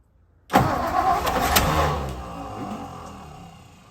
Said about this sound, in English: That's the starter turning.